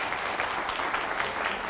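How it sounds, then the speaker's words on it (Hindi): Dense, steady applause from a studio audience during a Hindi TV9 political interview, a continuous wash of clapping at even loudness throughout with no pauses. "पहले जोरदार तालियां हो जाए।"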